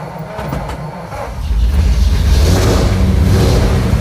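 An old engine runs on choke after a fuel pump fix, giving a loud, steady, close rumble that swells noticeably partway through and then holds at a rougher, fuller level.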